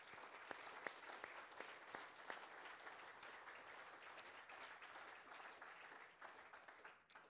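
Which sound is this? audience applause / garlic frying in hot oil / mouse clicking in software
audience applause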